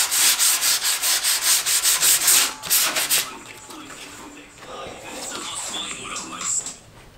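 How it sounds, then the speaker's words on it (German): Sanding of a BMW E36 323Ti front fender with 120-grit sandpaper, a loud, rapid run of rhythmic rubbing strokes that then turns into irregular scraping. "Kotflügel ist jetzt geschliffen, überall, an jeder Ecke."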